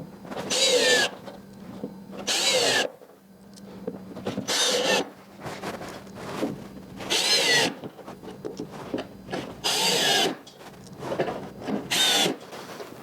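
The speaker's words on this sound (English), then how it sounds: "5/8 wood screws. Just come in and pop them in." A power drill drives 5/8 wood screws into a wooden saw leg, in six short, loud whirring bursts of about a second each, separated by quiet pauses.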